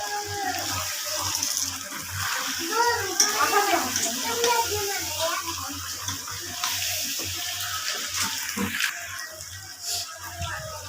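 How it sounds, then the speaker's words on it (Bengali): Water pours into goat meat being slow-cooked with spices, a steady rushing splash that runs throughout under a voice speaking in the background. "আমি জল দিয়ে দিচ্ছি"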